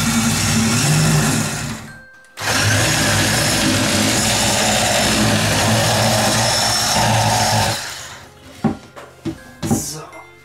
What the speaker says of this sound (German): Also nehmen wir jetzt den Schneebesen und schlagen das auf.